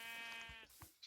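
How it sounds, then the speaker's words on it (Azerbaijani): A sheep in the Minecraft video game gives one clear, buzzy bleat lasting about half a second. It is followed by a few short, soft in-game clicks and thumps. "Qoyun."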